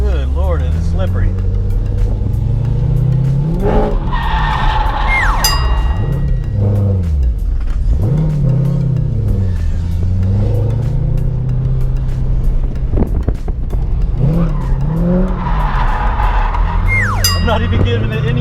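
A Chevrolet Corvette drifts on a slippery surface, engine revving up and down in surges while tires squeal and skid in repeated long bursts, close and loud, with someone talking over it.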